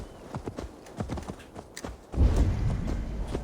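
Horse hooves clip-clop at a slow, steady walk in the video game Assassin's Creed Valhalla, then a louder rumbling thud and rustle take over near the end.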